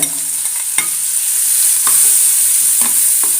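Red shallots frying in hot coconut oil in a Kerala kitchen give a steady, bright sizzle throughout, with a few soft clicks of a spoon stirring near the pan and no talking.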